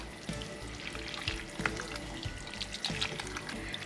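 Yellow and green peppers with onion fry for a borscht dressing while being stirred, a close, busy sizzle with scraping and clacking of the spoon against the pan.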